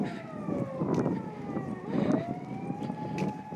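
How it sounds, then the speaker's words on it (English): A police siren wails at a distance on a walk along the Arakawa river in Japan, its rising and falling tone faint and drifting over light wind noise, with no talking. "I hear a police siren."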